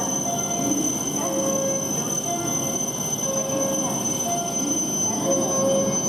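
A Tohoku Shinkansen train pulls into Hachinohe station, with a steady rolling rumble, repeated high wheel squeals and a constant station hum, moderately distant.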